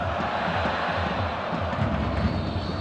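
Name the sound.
football stadium crowd of Shanghai fans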